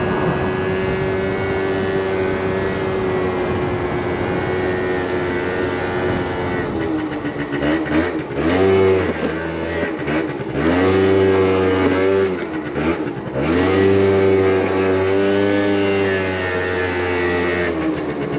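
A moped engine drones steadily while being ridden, then revs up and down in several rising and falling bursts, loud and close, with no talking over it.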